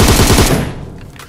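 Rapid automatic gunfire in the PUBG Mobile battle game, a loud dense burst of shots that thins out into scattered fainter pops and echoes over about a second.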